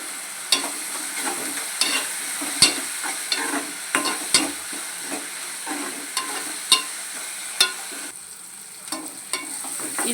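Drumsticks fry with green chilies and curry leaves in a close, steady sizzle, broken by repeated scraping stirs and clinks of a spoon against the pan, with no talk.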